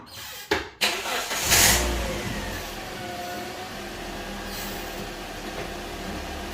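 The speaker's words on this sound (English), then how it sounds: "I'm gonna start the car and put it on gear, see if that wheel spin" A Toyota Corolla with a 1.8L engine and five-speed manual gearbox starts with a brief cranking burst, then settles into a steady running drone while in gear, with no voices.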